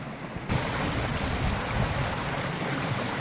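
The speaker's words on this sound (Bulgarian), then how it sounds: "А това е водата, която в момента изтича." Water pours out at the Rumyantsevo hydroelectric dam beside its wall, a loud, steady rushing roar that swells in abruptly after a brief quieter moment at the start.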